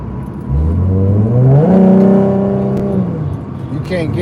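A gasoline car engine revs up, climbing in pitch to a sustained loud roar that holds and then eases off as the revs drop, close and dominating.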